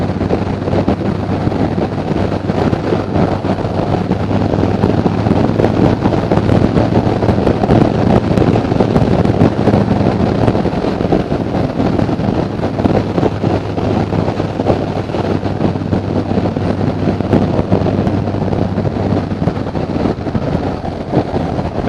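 A 2020 Harley-Davidson Softail Standard motorcycle accelerating under throttle on the road, with a steady low engine drone and heavy wind rush over the microphone throughout, no talking.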